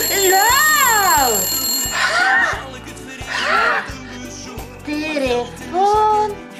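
An old-fashioned telephone bell rings in repeated bursts, loud and close, overlapping with excited talking and laughing voices.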